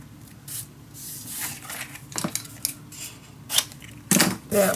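Scissors snip paper for a steampunk Christmas letters craft, a series of short irregular cuts and rustles up close, with louder snips near the end.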